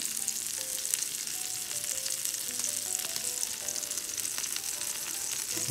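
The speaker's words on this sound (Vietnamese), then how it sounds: "rồi các bạn để nướng thêm một chút xíu nữa cho cái mỡ hành nó thấm vô trong cái con sò điệp" Scallops grilling with scallion oil give a continuous crackling sizzle, close and steady with fine popping throughout, while faint tonal background music plays underneath.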